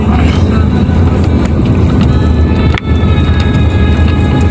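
Speedboat passing offshore at Pontian beach in Malaysia, a loud, close, rumbling motor drone mixed with wind buffeting on the microphone, with a sharp knock partway through.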